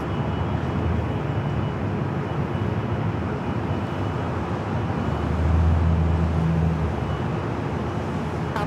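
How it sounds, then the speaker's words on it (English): A Japan Airlines Airbus A350-1000 taking off from the south side runways at LAX, a steady, broad engine roar heard from a distance that swells slightly midway, with no talk over it. "Japan Airlines Flight 15, the A350-1000, heading back to Tokyo, Haneda. Taking off on the south side."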